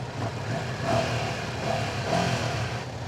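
A Ducati Multistrada V2 motorcycle engine runs nearby at a low, steady idle, with a couple of mild swells in volume as it is blipped gently, and no talking over it.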